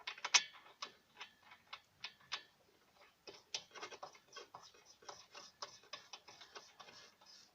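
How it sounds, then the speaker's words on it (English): Spark plugs threaded by hand back into a 1979 Ski-Doo TK Whip snowmobile engine, a quiet sequence of small metallic ticks and ratcheting clicks with irregular rhythm, close up and alone. "I'm going to go ahead and put my spark plugs back in."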